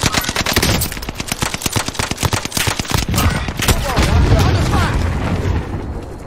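Rapid automatic gunfire in a video game shooter, loud bursts of dense repeated shots at first, then a rumbling blast-like wash, with voices talking over it.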